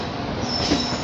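The Ekta Express on its inaugural run at Kurukshetra Junction station gives a brief, loud, steady rumble of rolling stock with a thin wheel squeal rising midway.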